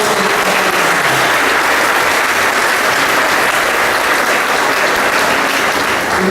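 Loud, sustained applause from a large church congregation, steady and dense throughout with no pauses.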